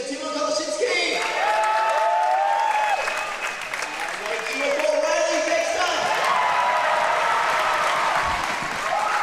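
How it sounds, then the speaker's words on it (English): A competition crowd at the Melbourne Summer 2026 final day bursts into sustained applause and cheering, loud and continuous, with whistles and shouts rising over the clapping. "Can we get a big cheer for Timon Koloshinsky?"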